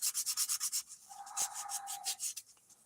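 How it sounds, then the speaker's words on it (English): Hand sanding a large fishing glide lure during final sanding before sealer, a quick rhythmic series of scratchy back-and-forth strokes, close and fairly loud, with a brief tonal squeak in the middle and no voices. "final sanding."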